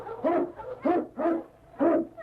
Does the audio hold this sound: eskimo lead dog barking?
yes